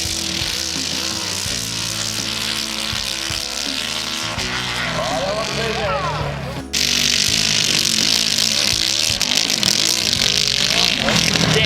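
Motorcycle engines roar and rev loudly at a motorcycle show, a steady drone that suddenly jumps louder midway, with a voice speaking beneath the noise.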